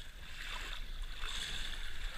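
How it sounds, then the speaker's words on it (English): Paddling a boat on open water early in the morning, with soft continuous splashing and water movement close by, steady and moderately quiet, with no voices. "We got Juanita paddling."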